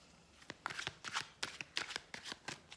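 Tarot cards being shuffled and drawn by hand, a quiet close run of crisp riffling flicks and soft slaps in quick irregular bursts.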